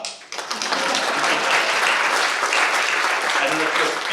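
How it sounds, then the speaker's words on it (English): An audience at a business plan competition final applauds, a dense, steady wash of many clapping hands that swells in after a brief pause and holds, with voices faintly beneath. "we should clap."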